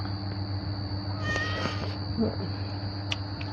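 A cat meows a few times nearby in a kitchen during crab papaya salad preparation, over a steady background hum, with a voice briefly speaking.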